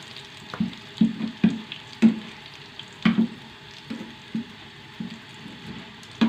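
Green chilli pakoras deep-frying in hot oil, a soft steady bubbling broken by repeated sharp clinks and scrapes of a utensil, fairly close and quiet with no voices.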